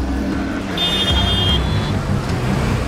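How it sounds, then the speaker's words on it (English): Busy gridlocked city street in Lagos, Nigeria, with a steady wash of car and bus engines, a brief high whine partway through and faint voices under the traffic drone. "Traffic gridlocks the streets"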